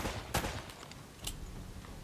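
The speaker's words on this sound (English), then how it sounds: "how about if I shoot" A few gunshots ring out in Uncharted: Drake's Fortune as debris is shot clear, a sharp crack early followed by a second fainter shot, over a steady game ambience.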